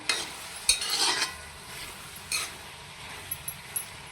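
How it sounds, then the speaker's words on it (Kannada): Ginger garlic paste fries in a pan, with a soft sizzle under a few scraping stirs and light clinks of a utensil against the metal, followed by quieter taps near the end. "ಒಂದು ಸ್ವಲ್ಪ ರೀ ಫ್ರೈ ಮಾಡ್ಕೋಬೇಕ್ರಿ ಅದನ್ನು ಶುಂಠಿ ಬೆಳ್ಳುಳ್ಳಿ"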